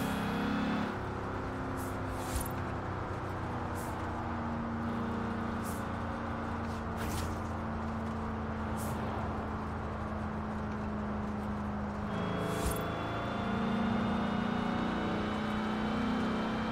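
Car engine in Forza Horizon 4 driving through corners, a steady close drone that shifts pitch as it slows and accelerates, with brief sharp clicks scattered throughout.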